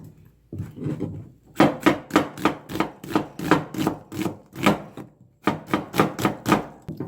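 A knife chops onions on a cutting board for japchae, with quick, even strokes in close, crisp bursts and brief pauses between runs.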